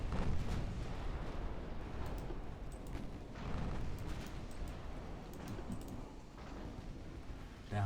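Battleship guns fire in the naval game Ultimate Admiral Dreadnoughts, a rolling series of low booms and rumbling blasts, fairly quiet and continuous.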